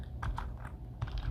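Quiet keystrokes on a computer keyboard, a few soft, irregular clicks close by with no voices.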